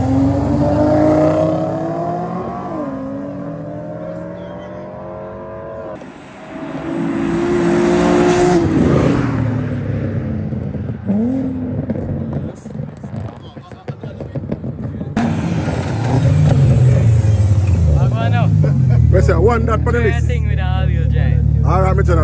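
A Lexus and another car accelerate hard in a street race, engines rising and falling through gear changes in several loud bursts, with people talking and shouting over the noise throughout.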